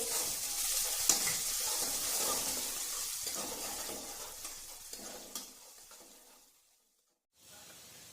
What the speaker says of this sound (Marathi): हिरव्या मिरच्या आणि लसणाची पेस्ट कढीपत्ता आता आपल्याला छान मिक्स करायचं आहे